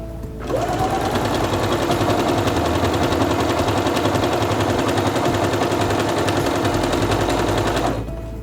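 A Quantum Stylist 9960 sewing machine stitches an elongated decorative pattern, a fast, loud, continuous mechanical rattle that starts abruptly, runs steadily for several seconds, then stops.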